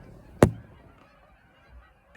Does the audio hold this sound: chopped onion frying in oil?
no